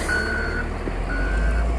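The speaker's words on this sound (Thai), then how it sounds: "แต่ที่นี่จะเป็นรถกวาดหิมะ" A snowplow truck's reversing alarm sounds steady, loud beeps over a constant engine rumble on a snowy town street, heard close with no voices.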